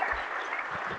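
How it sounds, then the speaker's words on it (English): Students at a GTU Robotics Club orientation in 2023 applaud for sponsors, a short, even patter of clapping from a room of people. "So please big applause for our sponsors as well."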